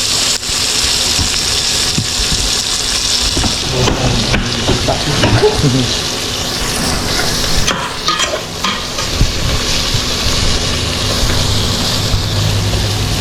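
Garlic and onion sauté in a pan, a steady frying sizzle broken by scraping stirring strokes and a few utensil knocks, close and fairly loud, with no clear talking.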